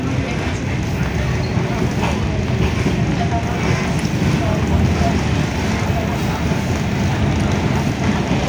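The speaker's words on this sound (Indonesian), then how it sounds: "kereta api Sri Tanjung sedang memperlambat kecepatan" Sri Tanjung passenger train on the Jogja–Banyuwangi route slows down, giving a loud, continuous low rumble with faint rattling and clattering throughout.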